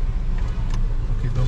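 A Toyota Innova Zenix gasoline car makes a steady, low engine and road rumble heard from outside, loud and unbroken, with a voice speaking over it.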